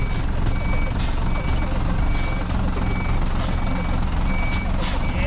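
A chipper truck reverses out of a bog, its reversing alarm beeping in a steady rhythm over a low diesel engine rumble, with a voice heard faintly in the background.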